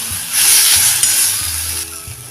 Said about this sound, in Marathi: थोड्या तेलावर हा मसाला आपण आता चांगला असा परतून घेऊया